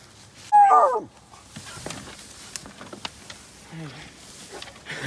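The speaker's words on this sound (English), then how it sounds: "It's a big dog." A big dog lets out a single loud yelping bark or whine outdoors on a South Carolina hunting trip, followed by fainter whimpers and scattered rustling.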